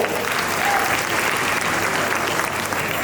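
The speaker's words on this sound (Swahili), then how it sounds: "Makofi mengi kwa Green O." Steady audience applause at a comedy show in Morogoro, a dense, even wash of many clapping hands throughout with no break.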